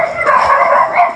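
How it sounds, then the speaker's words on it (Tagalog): Several dogs near a house in a rural neighborhood, giving yips and howl-like barks in a steady, close chorus with no talk over it. "Problema po dito, ang daming aso."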